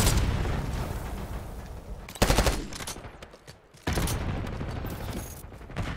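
Rapid gunfire in Black Ops 6 rattles in dense bursts, with two sharp, louder volleys breaking in partway through over a continuous clatter of battle noise.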